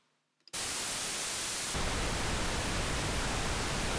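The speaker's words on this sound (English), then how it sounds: "Compare that to pink noise," After a brief quiet moment with a couple of small clicks, a loud continuous pink noise test signal starts, then deepens into a fuller, rumbling pink noise hiss.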